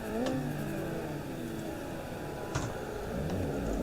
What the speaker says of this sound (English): We got car revving and all that good stuff.